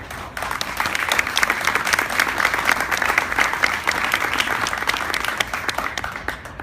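An audience at a comics convention in Montevideo applauds in memory of Cristina Galizzi, a dense, even burst of clapping that starts abruptly and holds steady for several seconds before thinning out.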